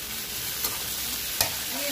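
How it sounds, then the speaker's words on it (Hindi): Jackfruit pieces fry in hot oil in a home kitchen, giving a steady hiss of sizzling with two brief stirring clatters, close and continuous for two seconds with no voices. "पहले भाभी ने तेल डाला और उसमें कटहल डाल के पहले कटहल को फ्राई कर रहे हैं।"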